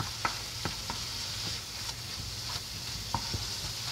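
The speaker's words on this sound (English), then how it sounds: "I'm gonna let that cook down just a little bit. I always like to keep it good and stirred, because if we don't, it's gonna stick." Poke salad greens cook down in a pot with a steady low simmer and sizzle, while a spoon stirs and scrapes the pot in soft, irregular strokes several times, close and moderately quiet, with no talking.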